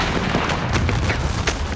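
A sustained roar of 11 cannon and 1,700 muskets of a Union line firing at once at close range in a Civil War battle, a dense, loud rumble with scattered sharp cracks throughout.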